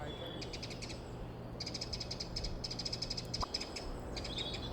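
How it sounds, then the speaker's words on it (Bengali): Faint bird chirps come in quick repeated bursts over a low steady background rumble of the sea, distant and soft, on Sonadia Island near Cox's Bazar. "আর চারিদিকে পাখির কিচিরমিচির শব্দ"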